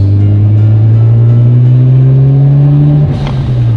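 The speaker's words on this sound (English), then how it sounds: "Car sounds good, nice and tame, quiet sound, but still get some turbo with the blow off, blitz blow off valve, which is a cool sound." Turbocharged engine of a right-hand-drive Mazda RX-7 FC3S with a Blitz blow-off valve, loud and close, holding a steady rising rev with strong low harmonics, then easing off with a short hiss near the end.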